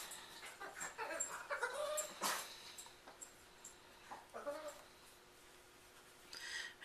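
A hyper female dog whimpers and yips in short, faint bursts in the background of a quiet indoor room during crochet work, with someone speaking over it.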